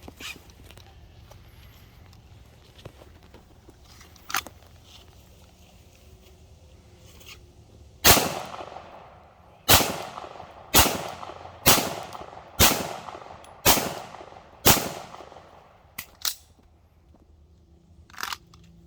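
Seven sharp gunshots crack out in quick succession at an outdoor shooting range during a red dot sight drill, each loud report trailing off before the next, after a long quiet stretch with a few faint knocks.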